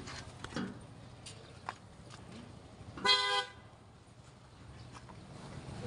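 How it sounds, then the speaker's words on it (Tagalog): A car horn gives one short, loud honk, rising over quiet outdoor background noise. "Lakas ng busina."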